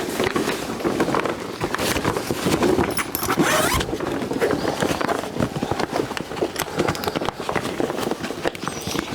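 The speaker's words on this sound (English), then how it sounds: "we're going to unzip the whole thing" A long grow tent zipper on an AC Infinity Cloudlab tent is pulled open in one continuous run, a close, steady rasping with small jerks and scrapes as the slider travels.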